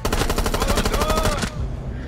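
Loud, rapid automatic gunfire from the video game Rainbow Six Siege rattles in a continuous burst for about a second and a half, then cuts off abruptly.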